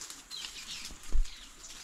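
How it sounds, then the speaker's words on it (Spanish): Birds in a forest beside a river: faint chirps and a soft flutter of wings, quiet and somewhat distant, with a brief low thump partway through and no talking. "Los pájaros,"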